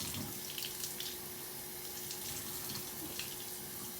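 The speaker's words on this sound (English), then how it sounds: "From here, I am going to then turn the sink on, making sure I control the flow and the temp of the water" Water runs steadily from a sink tap during a hand-washing routine, a close, even hiss with brief splashes as hands and wrists are wetted, with no voices.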